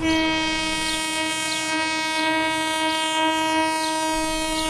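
A passenger train sound effect for a radio drama, an afternoon service from Purulia toward Begunkodar: a long, steady, loud horn blares through the whole stretch over a rolling rail rumble and faint clatter.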